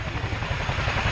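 A Chinook helicopter reverses up the runway at the RAF Cosford airshow, its twin rotors giving a loud, steady low thudding beat with engine roar, close and continuous.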